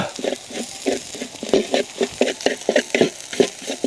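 Field rat meat is stir-fried over high heat in a hot pan, with a repeated rhythmic scrape and clatter of stirring over a constant sizzle, fairly close.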